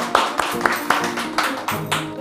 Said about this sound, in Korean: 다 같이 박수 치면서 시작하겠습니다.